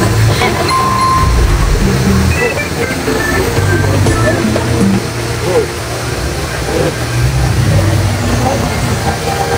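An indoor waterfall at Cloud Forest Singapore roars with a steady, loud rush of falling water, with voices and crowd chatter mixed in throughout.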